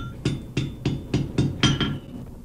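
A blacksmith hammers an iron skewer on an anvil at Old Sturbridge Village, six or seven sharp metallic strikes in a steady, quick rhythm, close and loud, the last two blows nearly overlapping.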